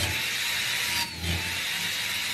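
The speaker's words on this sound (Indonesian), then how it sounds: "Wes ini pengeburan." Power drill boring into wood during a renovation job, a steady loud whine with a brief dip partway through as the bit catches, then the motor pushes on through to the end.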